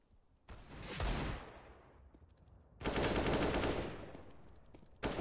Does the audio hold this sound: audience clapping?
no